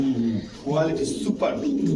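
Low cooing of fancy pigeons at a pigeon market, under steady close conversation, the soft coos partly buried by the voices.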